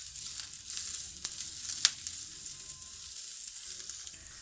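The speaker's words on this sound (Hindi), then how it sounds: "इसको अब हम 2 से 3 मिनट तक अच्छी तरह से फ्राई कर लेंगे" Shredded cabbage with tomatoes frying lightly in a pan, giving a soft steady sizzle with a couple of sharp little pops, faint and close, with no talking.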